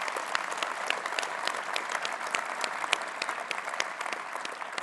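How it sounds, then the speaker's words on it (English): Audience applause at a Conservative Party conference, a broad continuous clatter of many hands heard at a moderate distance, steady in level with sharp individual claps standing out. "please give yourself a big round of applause"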